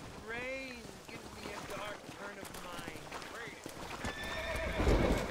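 A horse in the video game Red Dead Redemption whinnies repeatedly with shrill neighs over steady hoof clip-clops and a busy game soundscape, close and loud, while someone talks throughout.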